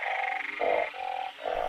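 Frogs croak in rain-soaked rice fields at night, a loud, steady chorus of repeated pulsing calls in several long bursts, close and unbroken.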